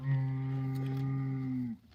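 A single long, steady moo from a cow on a farm, close and loud, holding for nearly two seconds before dropping away into quiet outdoor background.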